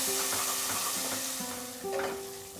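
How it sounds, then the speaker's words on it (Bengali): Spice paste for a Bengali vegetarian mutton-style curry frying in a pan while being stirred, a steady close sizzle with soft scraping strokes and a faint tonal hum underneath, no voices. "এবার আমি মশলাটাকে কষিয়ে নিচ্ছি"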